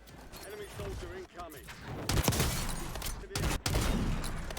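Rapid bursts of gunfire in Call of Duty: Warzone, loud cracks and sharp shots in quick succession during a firefight, with a player talking throughout.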